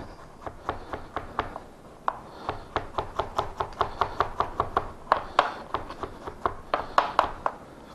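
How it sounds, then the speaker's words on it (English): Garlic being rough chopped with a knife on a cutting board, a run of close, crisp taps that start scattered and build into a fast, steady rhythm; no talking. "what I'm going to do is just kind of rough chop the garlic here"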